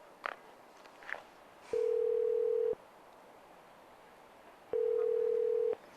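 A telephone ringback tone sounds twice, each a steady one-second beep separated by a pause, after a couple of faint clicks.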